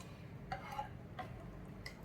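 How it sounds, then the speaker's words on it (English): A spoon stirring ragi flour liquid into vegetable soup in a pot, giving a few soft, faint scrapes and clinks spaced over a quiet background. "we have to put all our ragi flour liquid into it, and I have to mix it like this"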